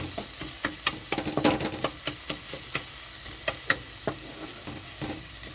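Grated coconut and sugar are scraped and stirred in a pan, with a steady run of sharp spatula clicks and scrapes over a soft sizzle, close and alone.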